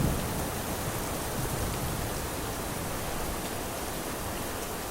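Heavy rain pours in a film scene, a dense, even hiss of downpour on surfaces that holds steady and loud from start to finish without voices.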